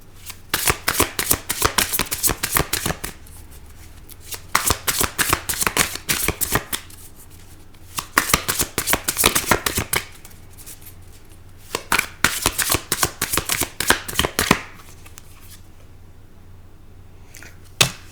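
Tarot cards are shuffled in rapid riffling bursts, three long runs separated by short pauses, close and crisp with no talking.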